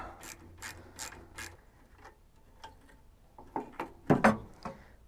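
A ratchet wrench clicks in quick bursts while undoing the bolts on the rubber exhaust mounting straps of a Citroen 2CV, close up, followed by louder metallic clanks as parts shift.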